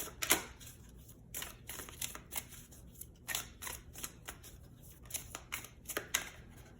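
A deck of tarot-style oracle cards is shuffled by hand, giving quick crisp riffling bursts and soft slaps in an uneven rhythm, close and fairly quiet with no talk.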